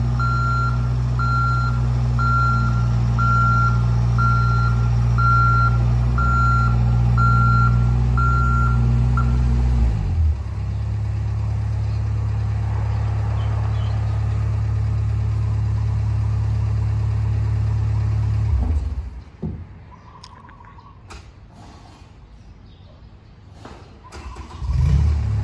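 A JLG 450 AJ folding boom lift is demonstrated outdoors. Its engine runs loud and steady while a reversing beeper sounds repeatedly, then the engine note changes and drops to a lower hum before cutting out near the end.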